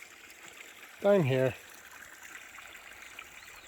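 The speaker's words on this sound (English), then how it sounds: "there's a little waterfall over there, dripping off" A small waterfall trickles and drips in Sequoia National Park as a soft, steady wash of water in the distance, with a brief voice speaking over it.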